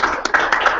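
Audience clapping at a guest speaker seminar, a short burst of quick overlapping claps filling the room, fairly loud and close, with no talk over it.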